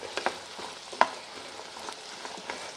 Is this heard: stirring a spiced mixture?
yes